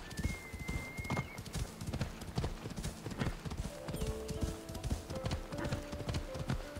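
Horse hooves clip-clop in a steady rhythmic gait within Assassin's Creed Odyssey, with brief whinny-like tones, continuing throughout alongside game sounds and faint background speech.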